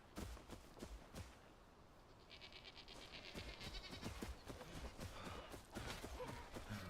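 Faint sheep bleating in the survival video game Enshrouded rises over a steady bed of ambient game noise and soft rhythmic footstep-like thumps.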